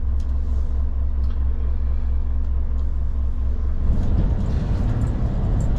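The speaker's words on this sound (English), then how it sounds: "we have our council bin lorry coming." A council bin lorry drives along a rural Highland road between Glen Hurich and Strontian, heard as a steady heavy engine rumble that swells louder and closer toward the end, with no talk.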